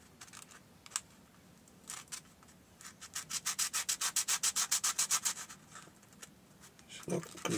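A small piece of bronze pipe is sanded by hand, starting with a few scattered scrapes and building into a steady run of about fifteen quick, rhythmic rubbing strokes close by, then a short clatter at the end.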